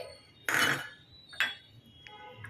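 Spoon clinks against a cooking pan while jaggery is stirred in, two sharp metallic scrapes followed by a faint tap, close and quiet with no talk.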